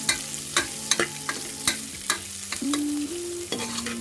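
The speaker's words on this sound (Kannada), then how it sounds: "ಈಗ ಸ್ಲೈಸ್ ಆಗಿ ಕಟ್ ಮಾಡಿರೋ ಒಂದು ದಪ್ಪಗಿರೋ ಈರುಳ್ಳಿ ಹಾಕ್ಕೊಂಡು ಫ್ರೈ ಮಾಡ್ಕೋಬೇಕು" Thick sliced onions frying in oil for dhaba-style chicken masala, a loud close sizzle punctuated by sharp rhythmic clanks of a spatula against the pan, with a tonal metallic ringing in places.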